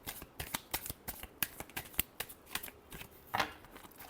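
Tarot cards are shuffled by hand in quick, rhythmic riffles and snaps, a crisp and fairly close sequence of papery flicks with no talking.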